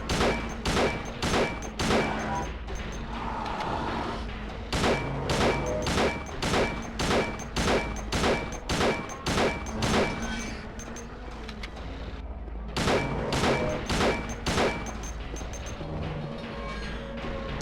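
Rapid volleys of video game gunshots during a speedrun attempt, dozens of sharp loud cracks in quick bursts with a brief pause near the middle, no voices.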